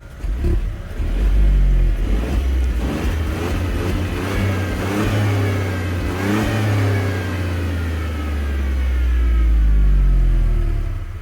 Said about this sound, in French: le 3 cylindres, il a toujours ce petit côté sportif